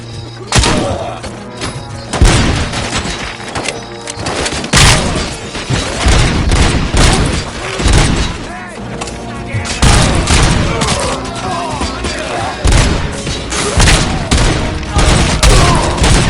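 A loud video-game shootout in RoboCop: Rogue City, with dense overlapping gunfire, heavy thuds and booms rolling on without pause, while voices shout under the barrage.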